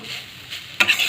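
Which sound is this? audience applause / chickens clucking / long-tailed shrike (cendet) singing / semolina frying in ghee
semolina frying in ghee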